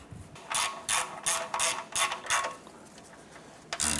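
A ratchet tightens an engine mount bolt on a Chevrolet S10: about seven quick, close bursts of clicking in an even rhythm, then a short pause and a final brief burst, no voices.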